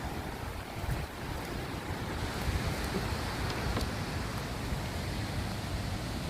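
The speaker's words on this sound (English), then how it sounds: "There's the creek." A creek in a mountain wilderness area flows in a steady, broad rushing wash that holds an even level throughout, with no voices.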